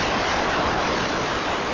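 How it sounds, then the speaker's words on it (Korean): Ocean waves surge at Broken Beach on Nusa Penida, filling the short stretch with a steady, loud wash of surf heard from above on the natural rock bridge, with no voices. "멋진 파도입니다."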